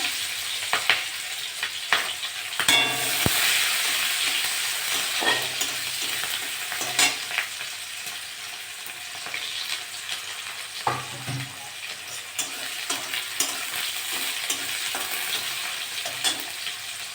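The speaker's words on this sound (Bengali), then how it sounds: "পেঁয়াজটা ভাজা ভাজা হয়ে গেছে" Onions frying with cumin and green chillies in a pan, a steady close sizzle broken by repeated scraping strokes of a stirring spoon, with no talk over it.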